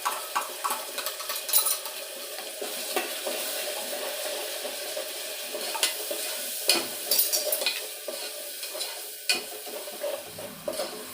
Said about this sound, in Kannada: ಈರುಳ್ಳಿ ಹಾಕಿನ ಕಡೆ ಹಾರ್ಲತ್ತಿರೋದು